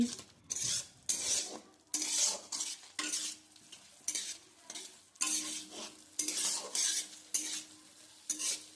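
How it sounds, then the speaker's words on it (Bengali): Spice paste stir-fried with a splash of water in a pan for a potato and soybean curry: a rhythmic scraping of a spatula, about one stroke a second, over a soft steady sizzle, close by. "জলটা দিয়ে সব কিছুকে খুব ভালোভাবে আমি কষাচ্ছি"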